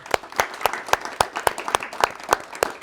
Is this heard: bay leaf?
no